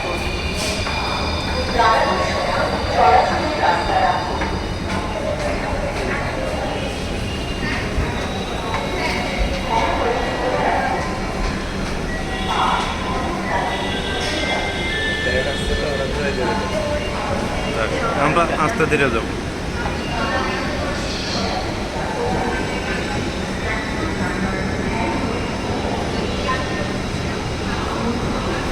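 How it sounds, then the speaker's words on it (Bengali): Rail rumble and Dhaka metro station noise continue for a long stretch while people talk nearby, with occasional clanks and higher-pitched squeals. "হ্যাঁ ট্রেন চলে যাচ্ছে, এটা হচ্ছে মেট্রো রেল চলে যায়।"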